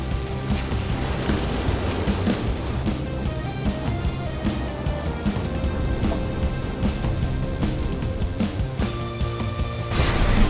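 Combat in From the Depths with missile interceptors launching from a craft: a steady barrage of booming thuds, crashes and rapid pops, loud and continuous throughout.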